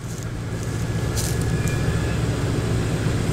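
Classic British V8 cars such as a Triumph TR8 or TR7 V8 and an MG V8 at a North Wales classic car show, their low engine rumble steady and fairly close throughout with no talk.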